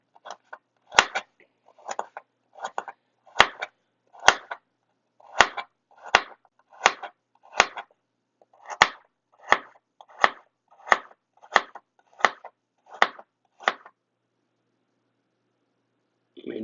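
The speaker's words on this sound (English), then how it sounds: "When you're done chopping the carrots" A knife chops carrots steadily on a cutting board, about sixteen sharp evenly spaced thuds, close and distinct, followed by silence and a brief sound at the end.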